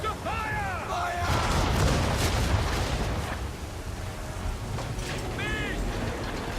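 Ship cannons boom in rolling volleys during a naval battle in Assassin's Creed III, loud and continuous over wind and creaking rigging, with a few brief whistling streaks between blasts.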